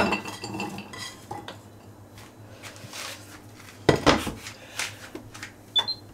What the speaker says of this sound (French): Alors maintenant, on va prendre la poêle, on va faire revenir